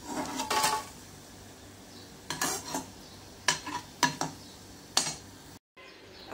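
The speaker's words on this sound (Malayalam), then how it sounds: "ബാക്കിയിരിക്കുന്ന പപ്പടം കൂടി നമുക്ക് വറുക്കാവേ" The last pappadams sizzling in hot oil while being stirred: a low frying hiss broken by several sharp ladle scrapes and taps against the pan, then a brief silence at the end.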